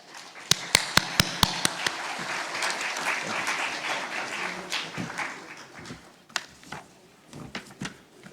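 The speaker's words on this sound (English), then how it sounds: "Please give a round of applause." Audience applause at the opening ceremony of the Nepal Investment Summit 2024, starting with a few sharp isolated claps, swelling into a dense sustained round, then thinning out to scattered late claps.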